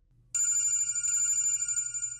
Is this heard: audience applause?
no